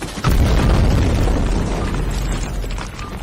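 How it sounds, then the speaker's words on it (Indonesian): A bomb detonates in the Indian film Mardaan, a sudden loud boom that swells into a sustained roaring, rumbling blast wash before tapering off. "seketika bom meledak"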